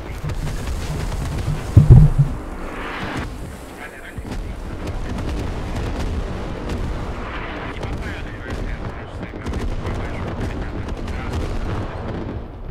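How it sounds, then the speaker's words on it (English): Explosions and artillery fire in the military shooter game Squad during a competitive match, a heavy blast early on followed by a sustained rumbling barrage of distant impacts and gunfire. "HAB is now deactivated from the explosions on blue team."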